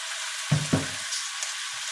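Eggplant frying in a pan gives off a steady soft sizzle, with two brief louder spatters near the start and a faint bump later on.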